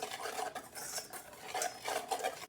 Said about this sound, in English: So give this a stir